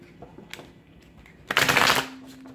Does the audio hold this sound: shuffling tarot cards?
yes